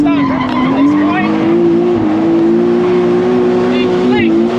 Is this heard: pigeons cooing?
no